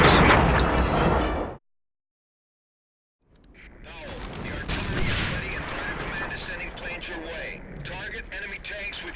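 Artillery shells burst in Medal of Honor Allied Assault, a heavy boom that cuts off into a second of silence before rumbling, crackling blast debris and scattered gunfire roll on, with game voices faintly present.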